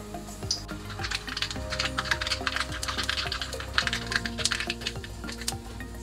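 Half a teaspoon of mustard seeds crackles and pops in hot oil in a pan for a green gram curry, giving dense, close, irregular sharp snaps over a low background hum.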